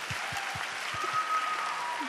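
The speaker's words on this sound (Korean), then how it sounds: "격려의 박수 한번 부탁드릴게요." Encouraging applause rises from the congregation at a church Bible recitation contest, a soft, even wash of many hands clapping at a distance, with a few low thumps early on.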